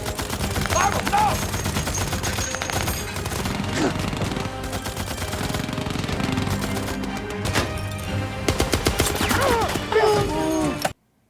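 Gunfire from the war film Fury: loud, continuous bursts of machine-gun and rifle fire with crashes and shouting voices, ending abruptly.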